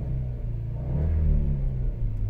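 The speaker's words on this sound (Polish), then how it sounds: "ten dźwięk tego silnika" A VW Passat B5 facelift car engine revs up from idle, rising into a throaty rumble close by, with no voices.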